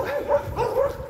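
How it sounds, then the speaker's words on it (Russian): Several dogs barking and yipping in quick overlapping bursts, fairly close, with a whimpering tone. "Что-то тут целая свора собак."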